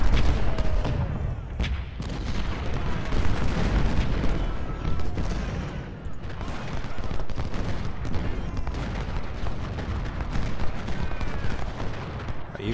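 Massed musket volleys and artillery fire in the Civil War strategy game Ultimate General: Civil War, a dense continuous crackle of rifle shots with deep booming cannon blasts throughout, loud and busy.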